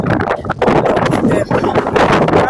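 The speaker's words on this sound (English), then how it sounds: "The wind is taking me backwards." Strong gusting wind buffets the microphone outdoors in cold weather, producing loud, rough rumbling bursts that rise and fall continuously, with a voice talking faintly underneath.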